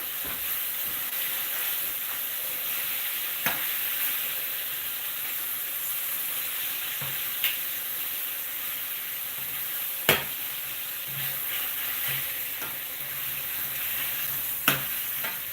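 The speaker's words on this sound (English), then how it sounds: "And you can see the meat sizzling up." Beef meat sizzling in a pot as the base for pho broth, a constant hissing fry with occasional sharp clicks and stirring knocks, close and steady with no talking.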